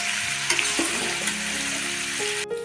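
About 2 kg of onions fry in oil in a pan for North Karnataka masala khara, giving a steady, close sizzle with brief scraping and stirring sounds.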